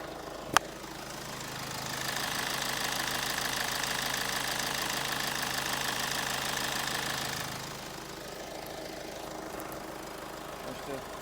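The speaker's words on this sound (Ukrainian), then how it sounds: "Мотор працює ідеально." A 2010 Hyundai Santa Fe engine idles with a steady, even hum and light mechanical ticking, louder for several seconds then settling slightly quieter.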